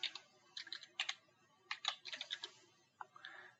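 Quick, light keystrokes on a computer keyboard as a password is entered, irregular clusters of soft clicks with short pauses, faint and close with no voice.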